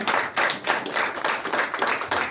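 Theatre audience at a drama festival clapping for a troupe of actors from Rohtak, a brisk crackling round of applause with pulsing bursts, alone with no talk.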